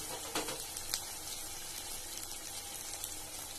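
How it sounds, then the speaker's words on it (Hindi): Bread and coconut samosas frying gently in hot ghee over a medium flame, giving a continuous soft, even sizzle and bubbling hiss with no voices. "से बहुत ही आराम आराम से हम तलेंगे ताकि ये फटे ना।"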